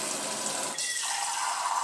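Filtered water streams steadily from a filter into a container, a close, continuous splashing pour whose tone shifts partway through as the vessel fills.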